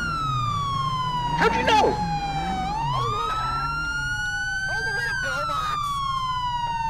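A video game ambulance siren wails in long sweeping rises and falls, loud and close, while players talk over it in quick excited bursts.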